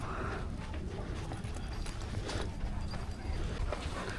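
Horses walking near Mount Bromo, hooves clip-clopping in a continuous uneven rhythm over an outdoor ambience, fairly close and moderately loud.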